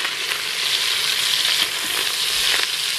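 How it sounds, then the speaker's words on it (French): Paupiettes browning with onions in a pan, a steady close sizzle and crackle of frying with faint stirring scrapes, continuous and fairly loud. "j'ai mis les paupiètes à revenir là. Avec les oignons du coup,"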